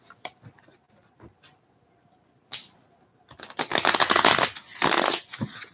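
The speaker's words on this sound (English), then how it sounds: "All right, couple final shuffles for you, Leo." Tarot cards being shuffled by hand at close range: scattered soft taps and riffles at first, then a long, loud, dense riffle burst, another short flurry and a final tap.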